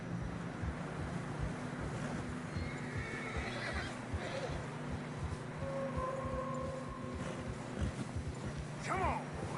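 Horses trudging through fresh snow in Red Dead Redemption 2, rhythmic hoof thuds with an occasional whinny under wind, faint and steady, with voices speaking.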